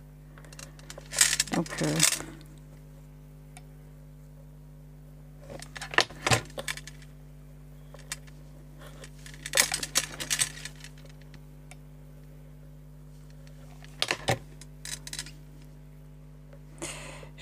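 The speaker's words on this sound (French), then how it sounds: "En entendant le verre, je viens de me rappeler que ça faisait du bruit." Glass pieces clink and knock against a tabletop while a homemade Christmas table centrepiece is assembled, four separate clusters of bright taps and rattles spaced a few seconds apart, with someone speaking briefly in between.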